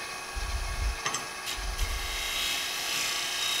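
A round negative rake scraper cuts wood on a lathe, giving a steady whirring hum with a few brief scraping bursts near the start, close and moderately loud, with no talking.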